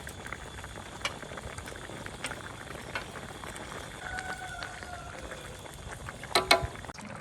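A pot of Northeastern-style mala stew with cabbage, radish and noodles boiling steadily, a soft continuous bubbling and patter with occasional faint clinks, low and even throughout.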